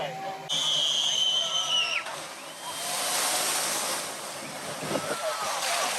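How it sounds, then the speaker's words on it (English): A Legoland canoe log flume boat goes down the drop, with a brief whistle-like tone and then a broad rushing splash and wind roar that swells and stays loud, with faint voices underneath. "So that was the Lego canoe log flume."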